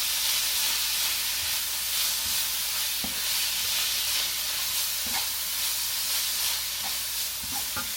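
Chicken siopao filling sizzles steadily in a hot pan while being stirred, with occasional soft scrapes and knocks of the utensil over the constant frying hiss, close and without talk.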